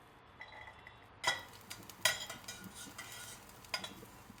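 Garlic drops into a hot pan of tempering oil for methi dal and starts a soft sizzle, broken by a few light metallic clinks and spoon scrapes. Before the garlic goes in, the pan is almost silent.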